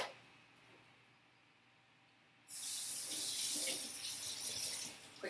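An emptied palmito jar gets a quick rinse under a kitchen tap. After a couple of quiet seconds, the water bursts on loud and close, then sprays and gurgles steadily into the jar until the end.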